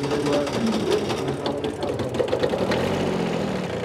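A four-wheel drive compact tractor, a B7100 with about 1,246 hours, runs its small engine nearby with a rapid steady clatter at a tractor auction.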